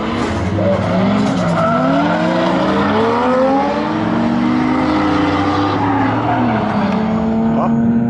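A drift car with a 1JZ engine skids at a drift event, its engine revving and tires squealing in long, loud sliding passes close by.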